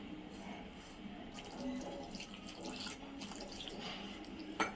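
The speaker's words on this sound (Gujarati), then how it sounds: "થોડું થોડું કરીને પાણી નાખવાનું અંદર" Hot water is poured a little at a time into flour to knead dough for Gujarati dal dhokli, heard as a faint, soft trickle and splash in a quiet kitchen.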